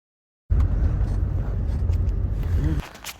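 Inside a taxi on a mountain road, a low, steady engine and road rumble starts suddenly and fills the cabin, holding even and loud before easing off near the end.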